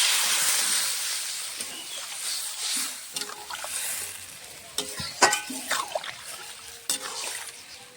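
A potato and spice curry sizzles loudly in a pan, then the hiss eases as water goes in, followed by scattered stirring clinks and scrapes over a softer bubbling, close and with no one talking.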